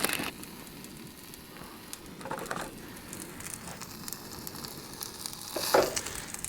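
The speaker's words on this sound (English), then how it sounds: "I just had to cover that with another frying pan just to get some heat in there to make sure the chicken was cooked" Chicken frying under an upturned frying pan used as a cover, giving a steady, soft sizzle with faint crackles throughout and a brief louder burst near the end.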